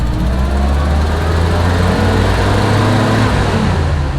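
A Jeep engine revs hard while climbing a hill, a steady loud drone with strong low rumble holding throughout without a break.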